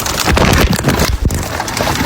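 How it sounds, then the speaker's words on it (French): Steady, dense patter of rain fills the clip, loud and close, with a gusty rushing texture throughout and no voices. "Et je sors dans la pluie."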